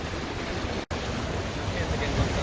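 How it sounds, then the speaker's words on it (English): Ocean surf washing onto a shore, a steady broadband wash of breaking waves with wind noise on the microphone, continuous and fairly close, with a brief dropout partway through. "How do you like the ocean?"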